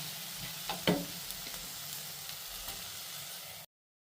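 Okra fry (bendakaya) sizzles steadily in a pan while a spoon stirs it, with a few soft scraping knocks near the start over a constant frying hiss that cuts off abruptly.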